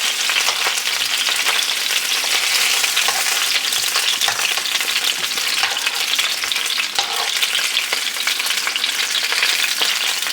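Sausages fry gently in a pan, giving a steady, close sizzle and crackle that runs unbroken throughout with no talking.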